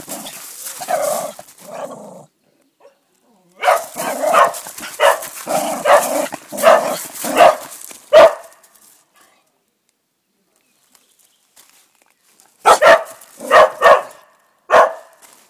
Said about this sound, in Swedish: Får man skälla sådär?